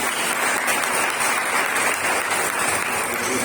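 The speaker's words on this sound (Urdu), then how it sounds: "تالیاں بھی زیادہ بیٹی کو" A church congregation at a Sunday morning service breaks into loud, sustained applause, dense and steady throughout with no pauses.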